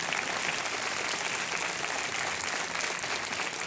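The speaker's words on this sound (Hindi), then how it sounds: "तालियों के साथ इनका स्वागत किया जाए" Steady studio audience applause on a TV quiz show set fills the whole clip, a dense continuous patter of many hands clapping at moderate distance with no voices on top.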